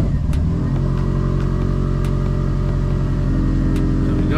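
A 2018 car's engine runs close and loud right after starting, settling into a steady idle hum with a few brief clicks over it.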